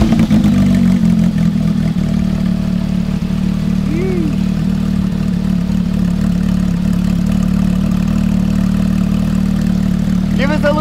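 A Porsche GT3 engine runs steadily with a deep, constant rumble, picking up with a brief rise in revs near the end while people talk inside the car.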